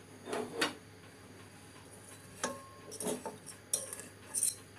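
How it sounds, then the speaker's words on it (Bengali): A plate being set into a pan over low heat, heard as a few light metallic clinks and scrapes with short gaps between them, close but fairly quiet, no talk. "এবার আমি প্লেটটা বসিয়ে দিচ্ছি।"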